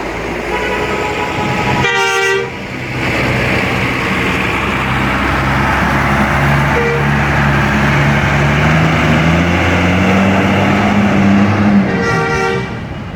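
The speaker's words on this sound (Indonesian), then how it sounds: "Dan dari arah kota Bukit Tinggi ada bus Epastar yang juga tujuan kota Palembang" An Epastar intercity bus from Bukittinggi, bound for Palembang, arrives close by with a heavy engine rumble, sounding two loud, multi-tone horn blasts, one near the start and one near the end.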